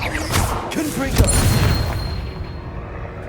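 A Confringo blasting spell explodes in the wizarding game Hogwarts Legacy, a booming rumble and crackle spreading through a busy battle mix while a voice talks over it.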